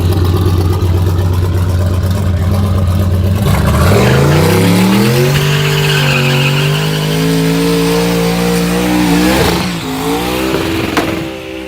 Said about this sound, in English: Okay, got the supermassive burnout.